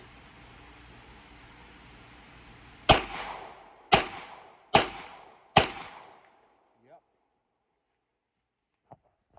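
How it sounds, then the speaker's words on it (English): Four sharp, loud pistol shots ring out in quick succession from a Springfield handgun fitted with a Dragonfly red dot, each with a short decaying echo, followed by near silence and a few faint clicks. "So I'm going to shoot pretty quick here and see if it's going to do it."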